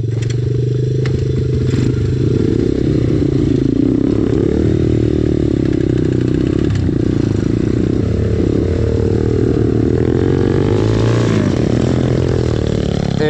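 A pit bike engine runs rough and loud up close, sputtering with uneven surges as the throttle opens and falters, along with some clattering and scraping.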